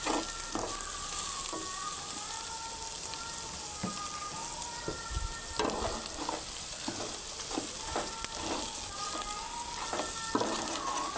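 Mutton curry seasoned with chili powder and salt being stirred in a pan, giving a steady close sizzle with repeated scraping and stirring knocks throughout.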